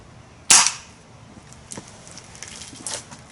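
A Benjamin Trail NP break barrel air pistol fires once at a small chalk target, giving a single sharp, loud crack up close, followed by faint thuds and a softer snap near the end.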